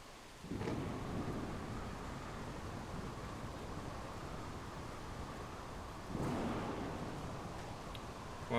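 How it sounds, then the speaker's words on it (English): Rain falls steadily in the video game The Solus Project while two heavy rolls of thunder rumble through, one near the start and one later, with a soft wind-like wash underneath and no talking. "While it's raining out."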